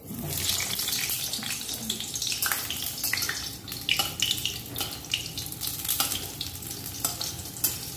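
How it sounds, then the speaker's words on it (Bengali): Potatoes sizzle in hot oil in a kadai, a dense, continuous crackling hiss up close, with frequent scraping bursts from stirring. "এখন আমি আলুটা ভেজে নিচ্ছি।"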